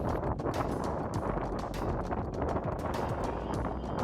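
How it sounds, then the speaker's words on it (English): Strong wind at night buffets a family tent with a continuous roar. The fabric flaps and rumbles unevenly, loud and close throughout. "I guess you can tell the wind is high, and that makes for an enjoyable night in a tent"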